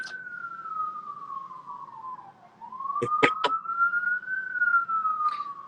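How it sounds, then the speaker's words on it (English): A wailing siren rises and falls steadily throughout, with a few sharp clicks or knocks partway through; no one speaks. "I have a siren going on in the background that's cutting off your audio."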